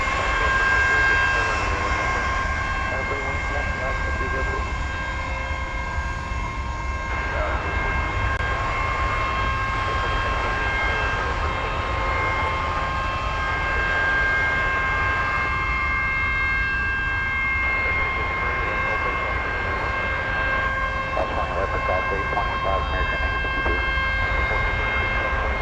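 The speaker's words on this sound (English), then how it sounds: "Yes, those darn air starters. Those are annoying" Air starter units run at an airport apron near an MD jet and a 757, a loud, steady droning whine with sustained tones that persists unbroken throughout, close and dominating the scene.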